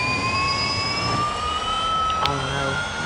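Synthetic engine noise from a Lotus Evija electric hypercar in Real Racing 3 plays as a loud, steady whine with rising tones that climb slowly across the few seconds, with no talking.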